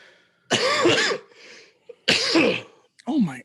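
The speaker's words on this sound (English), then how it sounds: "I have a cough." Several harsh, close coughs come in separate bursts with short pauses between them, loud and throaty.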